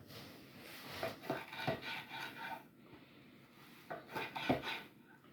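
A knife slices through cured meat, matured bacon-style slab, in close, rasping back-and-forth strokes that come in two bursts separated by a brief pause, with no talking.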